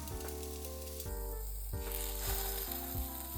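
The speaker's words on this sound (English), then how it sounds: "I turn on the heat and place the patties on the pan." Japanese hamburger steak patties set in a hot pan give a dense, close sizzle, with a low steady hum and a few soft knocks underneath.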